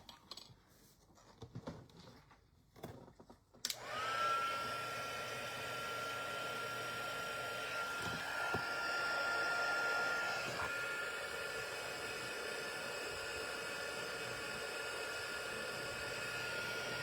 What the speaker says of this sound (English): let's get our heat tool